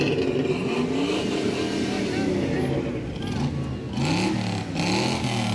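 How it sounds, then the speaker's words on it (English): At a Christmas parade, a truck engine rumbles and revs in rising and falling surges close by, with crowd voices and talk mixed over the engine throughout. "Nothing like starting off the holiday season with some truck engine revving."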